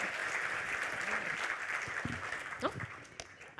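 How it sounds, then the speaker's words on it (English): Audience applause at a React accessibility tech talk, a steady wash of many hands clapping that fades slightly toward the end, with faint voices briefly audible underneath. "Everybody, give her a huge round of applause."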